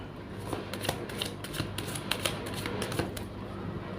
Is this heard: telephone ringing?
no